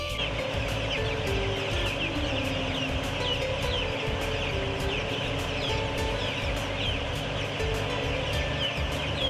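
Broiler chickens crowd a poultry house, a constant dense murmur of clucking and peeping with occasional sharper calls, a steady hum of fans or machinery beneath.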